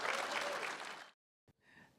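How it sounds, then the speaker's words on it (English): An audience at a big buck night event applauds a hunter, a brief dense burst of clapping that cuts off abruptly and leaves near silence with a faint trailing sound. "Let's give him a round of applause"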